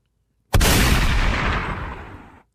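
A single loud gunshot sound effect fired from a podcast soundboard, a sharp blast followed by a long roaring decay lasting about two seconds.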